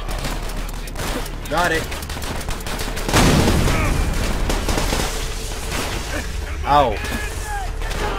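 Gunfire hitting the player in Call of Duty: World at War on PC, with dense shots and a loud impact burst midway over constant battle noise, while a player talks and yelps briefly.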